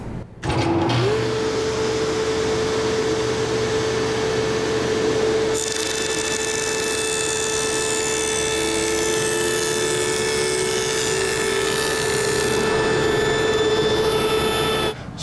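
A table saw spins up to a loud, steady whine, then walnut is pushed through with a miter gauge, adding a rougher cutting rasp under the constant motor tone.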